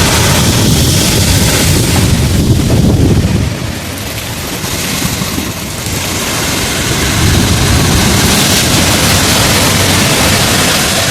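Hurricane Beryl winds and rain batter the outdoors in a loud, continuous roar of wind and pounding water, with gusts swelling and easing over time.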